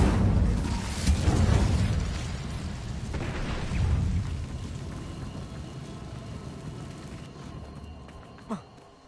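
An Incendio fire spell in Hogwarts Legacy erupts with a roaring, crackling burst that swells twice and slowly fades into a hissing, sputtering tail, with a short sharp pop near the end.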